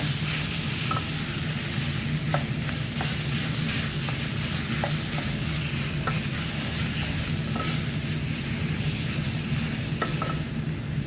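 Spinach, broccoli and onion stirred in a pan with enchilada sauce and garlic powder, a constant low sizzle with scattered light utensil scrapes and taps, no talking.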